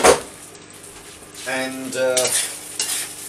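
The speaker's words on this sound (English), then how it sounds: "I'll give those a quick stir" Potato chunks stirred in a stir fry pan with chicken and Spam, giving quick scraping utensil strokes over a soft sizzle, with a voice talking briefly partway through.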